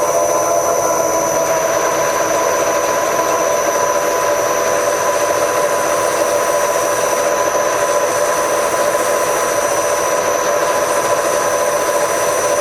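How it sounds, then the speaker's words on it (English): Sandpaper is held against an Acme thread spinning on a lathe, giving a continuous, loud, even hiss and whine that holds steady throughout. "Put the sandpaper on once more."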